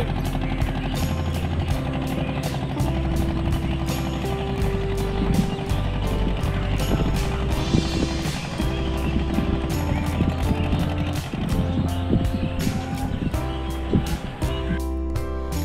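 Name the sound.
fishing trawler boat engine departing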